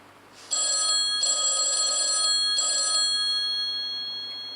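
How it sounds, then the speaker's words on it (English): An old-style telephone bell rings loudly nearby in three long bursts with short gaps between them, then the sound fades out, with no voices. "Phone's ringing."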